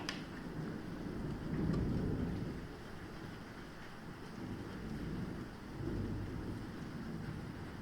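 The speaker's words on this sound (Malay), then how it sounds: "hujan lebat kat luar tu" Heavy rain falling outdoors, a steady, dense broadband wash with gentle swells in intensity and low rumbling undertones, continuous throughout with no voices.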